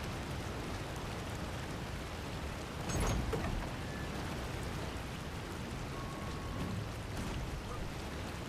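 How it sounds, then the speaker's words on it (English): Steady broadband rush of a waterfall in the video game Ark: Survival Ascended, a constant dense wash of falling water with a brief louder splash partway through, no voices. "Get away from the waterfall"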